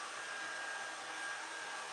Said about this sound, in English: if you have any of blow dryer like this